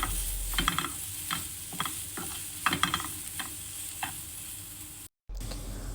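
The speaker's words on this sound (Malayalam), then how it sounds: "സോസേജും കൂടി ആഡ് ചെയ്ത ശേഷം നമുക്കെല്ലാം കൂടെ ഒന്ന് നല്ലോണം മിക്സ് ചെയ്ത് കൊടുക്കാം." Sausages and vegetables are stirred in a frying pan for a quick breakfast. Repeated scraping strokes of the spatula sound over a steady sizzle, with a brief silent gap near the end.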